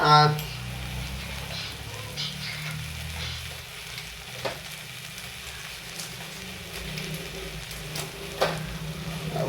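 Ground spices and pepper powder sautéing in a frying pan make a continuous close sizzle, with a few sharper scrapes from stirring scattered throughout.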